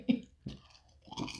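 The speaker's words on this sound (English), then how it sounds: "About 18 more chews." Food being chewed during a burger and onion ring eating challenge, three soft, close bursts of moist chewing with brief quiet gaps between them.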